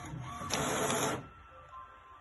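A home printer printing a zine page whirs with a brief mechanical burst of feeding and printing, then drops to a quieter hum as the page finishes, close by.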